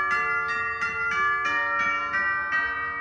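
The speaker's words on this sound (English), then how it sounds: "New tubular bells." Tubular bells voiced on a Yamaha Genos keyboard strike about eight times in an even rhythm, each bright metallic hit ringing with long overlapping sustain, clear and close with no talking.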